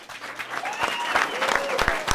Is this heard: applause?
yes